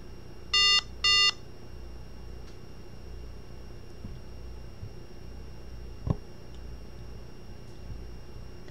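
Acer C7 Chromebook switching to developer mode gives two short loud electronic beeps near the start, then a quiet hiss with a faint tap.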